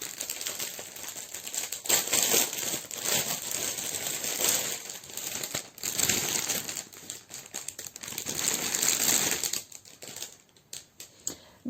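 Plastic packaging from a painting kit is unwrapped and handled, giving bursts of crinkling, rustling and clicking that come and go, fairly close.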